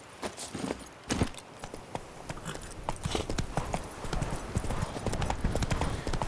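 The horse Roach walks along in The Witcher 3, its hooves clip-clopping in a steady, close rhythm throughout.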